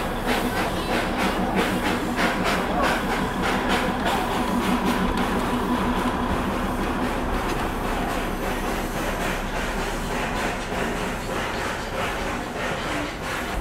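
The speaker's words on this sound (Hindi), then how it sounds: "भाई ये जो साउंड है ना स्टीम इंजन का, ये सुनने में ही मज़ा आता है।" Darjeeling Himalayan steam toy train running: a steady, loud mix of engine hiss and rumble with rapid wheel clatter that stays constant throughout.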